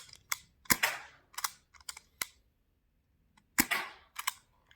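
A suppressed Stubby MK23 pistol mod fires a series of quiet, sharp clicks and snaps, close by, in irregular bursts with a pause between groups.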